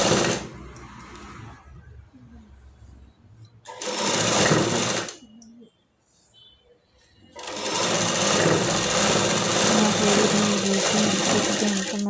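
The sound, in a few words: sewing machine stitching blouse lining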